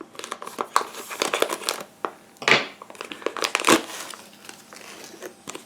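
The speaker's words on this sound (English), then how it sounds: "Let's find a pair of scissors" Scissors cut open a plastic package holding small puff balls for hats, with close, irregular crinkling, crunching and snipping of the plastic and a couple of sharper rips.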